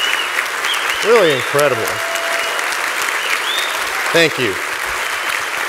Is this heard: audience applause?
yes